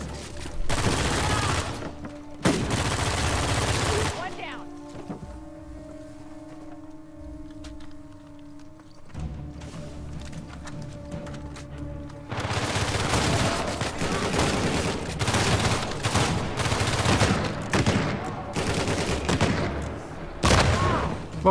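Bursts of heavy gunfire in the video game Uncharted 4, loud and close, in two long stretches separated by a quieter lull with a steady tonal hum, a final burst closing out.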